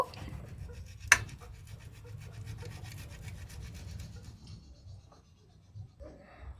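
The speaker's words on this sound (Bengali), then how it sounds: "এখানে আমি গ্রেটার দিয়ে গ্রেট করে নিচ্ছি খুব ভালো করে গ্রেট করে নেব" Boiled potatoes rasp against a kitchen grater in steady, soft scraping strokes close by, with one sharp knock early on and the rubbing thinning out toward the end.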